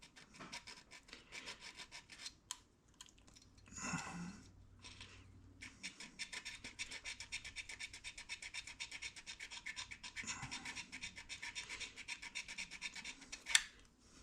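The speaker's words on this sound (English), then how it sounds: "And this is a point file. It's designed to scrub points." A very fine point file scrubbing the ignition points of a Kawasaki KE100 motorcycle, a close, dry rasping that runs in quick repeated strokes with short gaps and a sharp click near the end.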